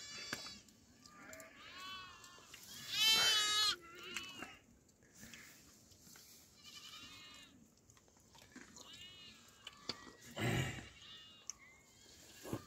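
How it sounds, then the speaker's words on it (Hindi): Goats of a nomadic shepherd's herd bleating at a hillside camp in the evening, scattered calls near and far, mostly faint with one louder burst, over quiet background. "और यहाँ नीचे आ गई इनकी बकरियाँ सारी"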